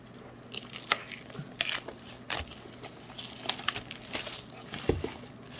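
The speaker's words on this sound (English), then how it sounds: "Though it's very good shrink wrap, so I'm gonna have to use my scissors for this." Scissors snip and slice through tight shrink wrap on trading card boxes, giving sharp crinkling and crunching bursts spaced irregularly over a low steady hum, close and moderately loud.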